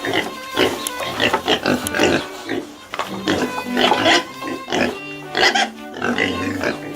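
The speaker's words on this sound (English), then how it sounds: "these once tiny piglets, weighing just over 1 kilogram, grow into massive giants" Pigs on a breeding farm grunt and oink in a dense, busy chorus that runs throughout, with bursts of louder squeals close by.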